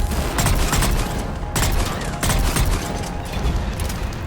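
Burst-fire weapon shooting in a video game, loud, dense rapid gunfire with several sharp bursts standing out over a constant mechanical clatter.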